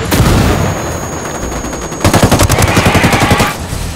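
Automatic rifle fire in the video game Ghost Recon Wildlands, close and loud, with sustained bursts followed by a rapid rhythmic string of shots.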